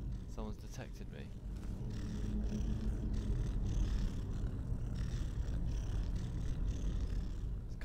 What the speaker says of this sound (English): Kind of this purring sound coming from around this corner. Oh, it's a skeever.